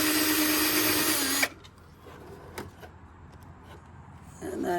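Power tool backing out fender screws on a vehicle during a fender flare install, a loud close whir for over a second, then a quieter stretch with small clicks and taps before a brief second burst.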